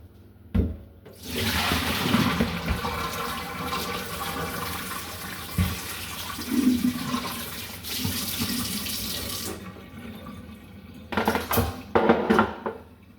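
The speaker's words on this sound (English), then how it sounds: "let me pour this out." Water poured out into a sink after filleting crappie, a steady rushing splash for several seconds, close and fairly loud, followed by short clatters and more brief splashing.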